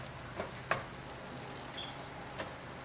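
A sandwich sizzling inside a heated electric grill, a soft steady hiss with a few faint clicks and pops, quiet and close with no talking.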